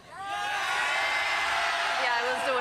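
A live late-night show audience cheers and whoops, a dense, loud wall of many voices that swells in within the first half second and holds steady to the end.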